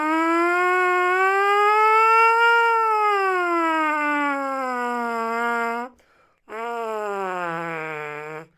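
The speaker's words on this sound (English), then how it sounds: "my mouthpiece siren not being very good is actually kind of a good thing in my eyes" Trumpet mouthpiece buzzed alone as a siren, a loud sustained buzz sliding slowly up and down in pitch for several seconds, a brief break, then another sliding buzz.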